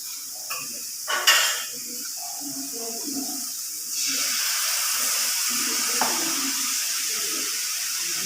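Water used to rinse a mixer jar is poured into a pan of cooking young jackfruit thoran, a steady hiss of splashing and running liquid that starts with a few clinks and grows fuller partway through.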